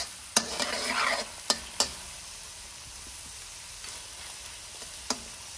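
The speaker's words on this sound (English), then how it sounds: "I've got the gas on medium. I need the onions to sweat down and soften up." Onions frying in a pan over a medium gas flame, a quiet steady sizzle with several sharp spoon knocks and scrapes against the pan, no talking.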